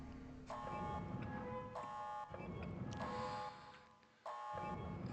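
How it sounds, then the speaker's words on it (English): An alarm in the Resident Evil Code Veronica video game blares in repeating harsh, buzzing electronic pulses, each about a second long, with short gaps between them over a low rumbling background. "This alarm is way worse than the one on Sheena Island just because that one had moans."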